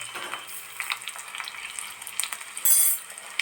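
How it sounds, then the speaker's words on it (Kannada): Crushed garlic fries in hot oil as tempering for tender mango pickle, giving a close, crackling sizzle with light stirring and a short louder hiss burst near the end. "ಎಣ್ಣೆ ಕಾದದೆ ನಾ ಇದಕ್ಕೆ ಬೆಳ್ಳುಳ್ಳಿ ಜಜ್ಜಿಕೊಂಡಿದೆ ಇದೆ ಇದು ಹಾಕ್ತೆ"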